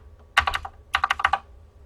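Computer keyboard keys are pressed in two quick bursts of close, crisp clicks during a Unity save-and-load tutorial, with a short pause between the bursts.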